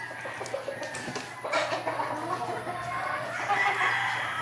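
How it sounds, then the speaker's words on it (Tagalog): A Blue Face Hatch gamefowl rooster gives a series of soft, close clucks over a low, steady background. "Napakagandang pure na blue face hatch"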